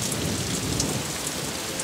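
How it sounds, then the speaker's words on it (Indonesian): Rain falls in a steady, dense hiss of drops, even and constant throughout, with no voices. "Tiba-tiba hujan mulai turun."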